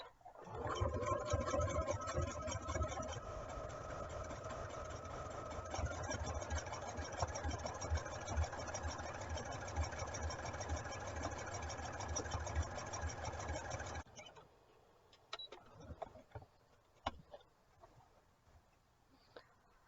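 A sewing machine runs steadily at close range, top stitching a raglan tee with a long stitch, its motor hum and needle rhythm continuous for about fourteen seconds before stopping, followed by quiet handling clicks.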